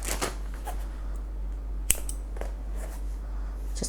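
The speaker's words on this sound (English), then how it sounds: "And then I'm going to get my scissors" Scissors snip crochet yarn in a few faint, sharp clicks over a quiet room hum, with one distinct cut near the middle.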